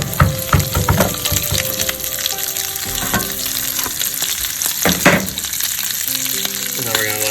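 Chopped onion frying in bacon grease in a pan for pulled pork sandwiches, a steady close sizzle with scraping stirs and clinks, loud and continuous throughout.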